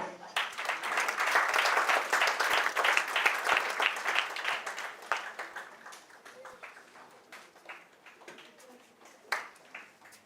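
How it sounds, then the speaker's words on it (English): Audience applause at a national climate dialogue welcoming representatives, loud crowd clapping that swells early then thins into scattered claps while a voice speaks over it. "Madam, you can see they are going to bring for you the paper. Let's clap."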